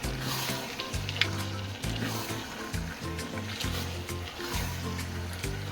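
Goat meat sautéing in a pan gives a steady close sizzle and hiss that runs throughout, partly under background music, with no talking.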